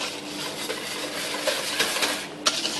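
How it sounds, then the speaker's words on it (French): Whisk or spatula stirring a litre of milk into egg yolk and sugar mixture for crème brûlée, scraping the bowl's sides with soft rubbing, light clinks, and a sharper tap near the end, close up. "Mélangez délicatement en prenant soin de bien raquer les bords."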